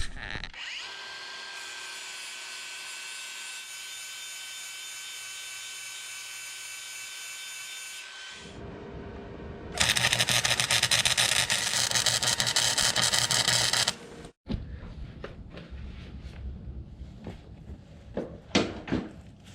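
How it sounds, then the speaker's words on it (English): Tack welding a trailer hitch onto a Deere rider tractor in a shop: a steady hissing buzz for several seconds, then a louder harsh crackling burst, followed by clanks and scattered tool noises. "I'll tack weld and then we'll test fit."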